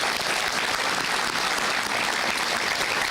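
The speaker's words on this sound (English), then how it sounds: "Let's give him a big round of applause." A crowd at a solar project announcement for CPS Energy gives Doyle Beneby a big, steady round of applause, dense clapping that fills the room without pause.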